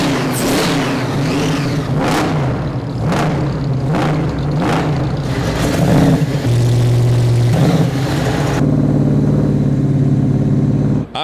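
A 1,000-horsepower 540 big block Chevy hemi-head V8 barks through a series of sharp revs, then settles into a loud, lumpy idle with a deep rumbling tone.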